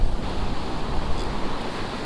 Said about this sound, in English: I walk backwards so I don't get smashed by these waves